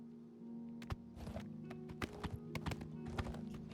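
Horse hooves clip-clop in an uneven series of sharp knocks over a steady low hum, fairly close, in the video game Oblivion Remastered.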